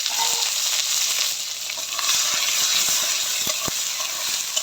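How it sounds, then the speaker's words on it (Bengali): Onions frying in hot oil with bay leaf, cardamom, cinnamon and cumin, a loud, steady sizzle broken by scattered sharp crackles and pops throughout. "পেঁয়াজটা একটু ভালো করে ভাজিয়ে দিলে"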